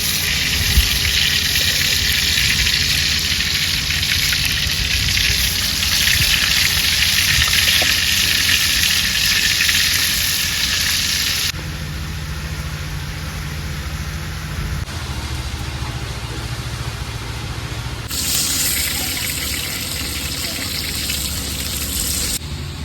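Fish frying in hot oil in a village kitchen, a steady broadband sizzle that holds loud for about ten seconds, then drops quieter and rises again near the end.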